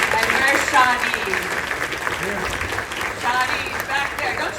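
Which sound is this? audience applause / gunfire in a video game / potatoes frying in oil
audience applause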